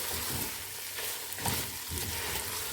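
Ground meat with pepper and tomato sauce sizzles and fries steadily in a pan, a close, continuous crackling hiss with faint stirring scrapes and no talk.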